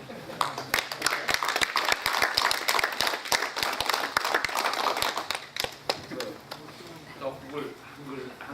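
Applause for kitchen volunteers at a Korean community association's 15th anniversary gathering: a room of people clap in rapid, crisp, individually distinct claps at moderate volume, thinning out and fading after several seconds into quieter background murmur.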